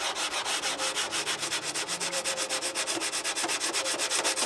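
Steady rhythmic sanding strokes on a carved wood wing cowl block for a Windy U Master 807 model, a close, even scratchy rub repeating back and forth with no talk.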